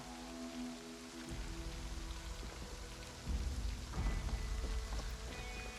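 Steady rain falling around a barn at night in the zombie survival game Project Zomboid, a dense hiss with low rumbling swells and heavier gusts toward the end, with no voices.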